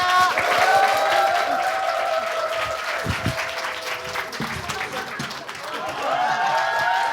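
A studio audience claps to welcome comedian Jung Jong Cheol, a swelling round of applause that dips in the middle and picks back up, mixed with a bright musical sting.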